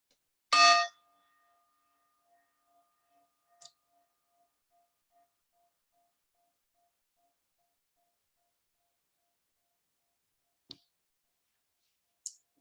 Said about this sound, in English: Bring your awareness to the bell.